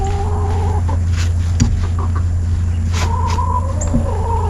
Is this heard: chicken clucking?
yes